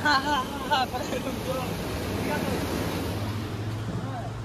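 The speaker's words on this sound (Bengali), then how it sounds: "এই দেখো জল যাচ্ছে, নিচ দিয়ে জল যাচ্ছে" Water rushes steadily beneath a sluice gate at a bazaar, a continuous broad roar with a low hum underneath, while voices talk briefly at the start.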